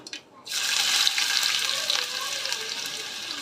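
Finely chopped onion drops into very hot oil with popped mustard seeds, setting off a sudden loud sizzling hiss after a brief quiet moment, the frying then continuing steadily and close.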